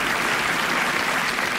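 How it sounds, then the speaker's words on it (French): Studio audience applauding steadily on a French radio comedy panel show, a dense, even wash of clapping throughout with no pause or talk over it. "J'ai noté ceux qui n'ont pas applaudi."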